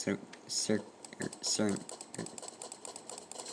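Clicks from a computer keyboard being typed on, a fast run of light taps under and between bursts of nearby speech, tied to entering a code for Fallout 4.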